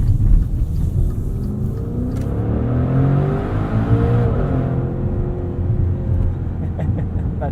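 Heard from inside, a 2021 Maserati SUV's engine revs and pulls forward in a strong rising surge, a rumbling roar that climbs, holds, then eases back over several seconds with no talking.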